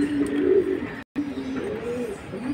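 A pigeon at a pigeon market coos in low, rolling phrases, fairly close, repeating over a soft background hum.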